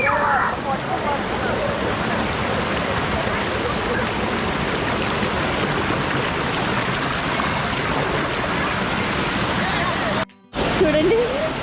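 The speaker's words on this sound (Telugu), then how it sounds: "ఇంకా పై నుంచి వస్తుంది ఐరా వాటర్ ఫాల్స్" Steady, loud rushing of Aira Force waterfall and its stream in the Lake District, UK, a continuous broadband roar that drops out briefly near the end before resuming.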